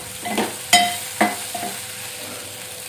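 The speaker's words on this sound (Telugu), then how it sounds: "ఉప్పు వేసి ఈ చామగడ్డ ముక్కలు వేసి కలిపిన" A spoon stirs boiled taro pieces with salt and onions in a pan, giving a few scraping strokes and clinks over a low sizzle, close and fairly loud.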